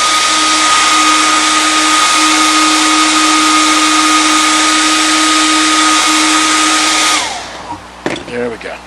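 A hair dryer blows steadily and loudly while drying a foam puppet head, a constant whooshing hum with a whine, then it cuts off near the end, leaving brief handling noises.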